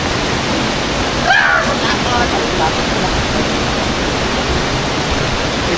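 A high waterfall pours into a lagoon, a loud, close, steady rush of falling water filling the whole stretch, with a brief voice-like sound partway through.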